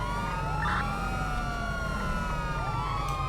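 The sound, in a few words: police siren in a video game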